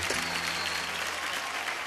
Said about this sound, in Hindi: सादिका एंड उसके पूरे परिवार के लिए जोरदार तालियां हो जाए